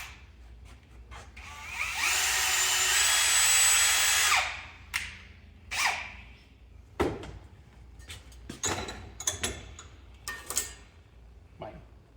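A power drill whirs loudly for about two seconds in a vise setup, then stops, followed by scattered clanks and tool handling sounds nearby.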